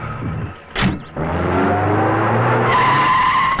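A car pulls away hard with a sharp tire skid followed by a rising engine roar, close and loud with no talking.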